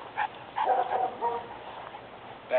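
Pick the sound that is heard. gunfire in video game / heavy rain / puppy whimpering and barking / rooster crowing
puppy whimpering and barking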